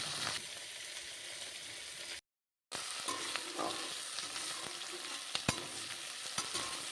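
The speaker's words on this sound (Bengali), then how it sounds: "তো পেঁয়াজটাকে এখন ভাজা হোক প্রথমে।" Onions sizzle in a pan in an Indian-style chilli chicken kitchen, a steady frying hiss with scraping stirring strokes, close and continuous apart from a brief silent cut.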